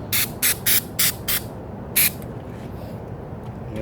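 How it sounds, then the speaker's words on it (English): FW1 foam wax sprays onto a car headlight in five quick hissing bursts, then a single later burst, each short spray distinct and close against a quiet background. "a foam type wax, where you just spray on"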